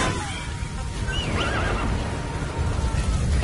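A horse in the video game Metal Gear Solid 5 lets out a clear, wavering whinny over a rumbling game background, with a few soft hoof clip-clops.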